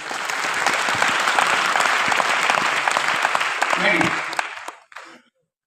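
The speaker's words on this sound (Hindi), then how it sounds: "तालियां होनी चाहिए इनके लिए" Sustained, loud applause from an audience at an anniversary programme, a dense wash of clapping lasting about five seconds before cutting off abruptly into silence.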